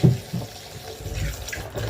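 Bananas being washed under a running tap for Jamaican tinned-mackerel rundown: a steady, close splash of flowing water for about two seconds, with no talking.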